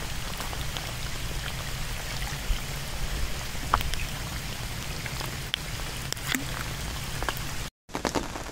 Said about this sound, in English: as I was playing it, it started bucketing it down